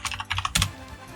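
Quick bursts of keystrokes on a computer keyboard while a server command is entered for a Minecraft Alpha 1.2.6 server, clicking in close clusters with a heavier keypress near the middle and a quiet pause at the end.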